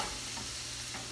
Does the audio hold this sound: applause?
no